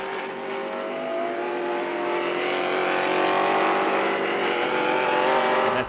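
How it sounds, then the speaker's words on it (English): Loud vintage race car engines, including a Porsche, roar and drone continuously at Road Atlanta, rising as they pass close by, with no voices. "So much good noise coming out of these cars."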